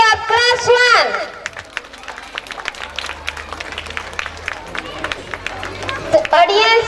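Audience clapping at a school competition prize-giving for a class 1 winner, a steady spread of many hands applauding, with brief voices at the start and end.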